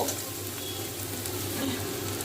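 Continuous, even sizzling of beetroot frying in oil, a dense steady crackle at moderate volume with no pauses and no voices.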